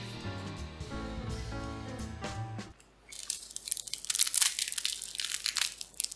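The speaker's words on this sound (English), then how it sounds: "But listen to that crunch!" Sharp, close crunching bites into the flaky, crisp pastry of a leek byrek, a rapid crackly burst following a brief muffled lead-in.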